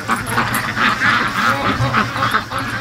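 Free-range ducks quack outdoors in a repeated, overlapping chorus of nasal calls, loud and close, with several birds sounding at once.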